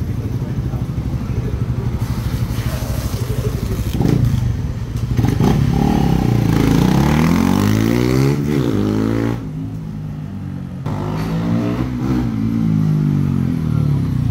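Raider 150 Fi motorcycle with refreshed engine, remapped ECU and stock sprocket on a test ride, loud engine revving and accelerating through rising and falling pitch sweeps, close and continuous.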